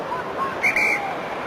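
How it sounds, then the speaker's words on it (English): A referee-style whistle is blown from the crowd at a Heineken Cup rugby match between Saracens and Toulouse, heard as two short, shrill distant blasts over steady stadium crowd noise. "I didn't blow the whistle. Must be somebody in the crowd."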